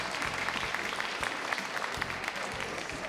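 Audience applause sending off a guest at a public boat-race draw event for the SG 38th Superstar Championship, steady dense clapping throughout, moderately distant and even.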